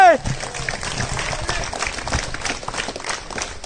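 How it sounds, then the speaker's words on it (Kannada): Crowd applause for climber Jyothiraj in Karnataka, a dense wash of many hands clapping steadily at moderate volume, opening with a brief rising electronic tone. "ಬರ್ಲಿ ಜ್ಯೋತಿರಾಜ್ ಅವ್ರಿಗೆ ಚಪ್ಪಾಳೆ"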